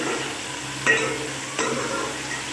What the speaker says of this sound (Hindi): तो अब हम इसमें गोश्त डालते हैं। इसको थोड़ा सा भून लेते हैं।